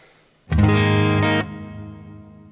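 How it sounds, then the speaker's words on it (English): A single electric guitar chord strummed through a Golden Reverb pedal set to a big plate reverb, ringing loud and then decaying into a long wash of reverb tail, with no voices. "So that's quite a big reverb"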